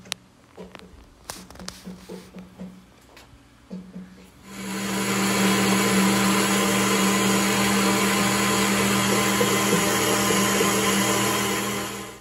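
A new kitchen blender whirs up loudly, mixing milk replacer for calf bottles, a steady motor drone running for about eight seconds after a few light taps and clunks of preparation.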